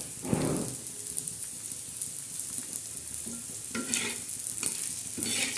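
Coriander seeds and spices being dry-roasted and stirred in a pan for a spicy Maharashtrian masala, with a soft continuous sizzle and repeated scraping stir strokes close by.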